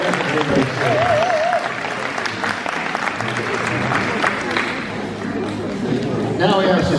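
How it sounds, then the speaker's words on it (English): Audience at an event applauds the staff with sustained clapping that fills the room, mixed with scattered crowd voices and chatter throughout. "applause."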